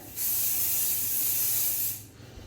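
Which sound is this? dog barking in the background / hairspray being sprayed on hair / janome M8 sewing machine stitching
hairspray being sprayed on hair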